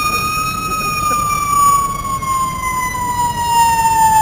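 A fire truck siren wails steadily and loudly, its tone sliding slowly downward over a constant rumble of traffic.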